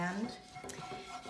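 Flour roux cooking in a pot while a wooden spoon stirs it, with faint scraping and soft clinks of utensil against the pan, quiet and close, under a low background hum.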